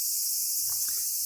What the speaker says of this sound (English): I would say the cicadas.